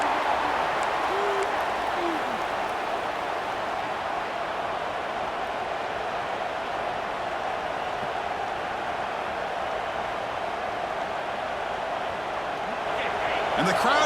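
Stadium crowd noise in a college football video game, Texas A&M versus Oklahoma, forming a dense, steady roar of many voices that fills the whole stretch, with faint hoots and swells near the end.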